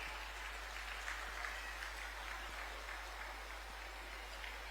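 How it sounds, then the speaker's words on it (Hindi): Steady applause from a large audience fills a government ceremony in Jharkhand, a continuous even roar of many hands clapping, with a constant low hum underneath and a few sharper claps standing out. "तालियां आप सबकी तरफ से जोरदार होती रहे।"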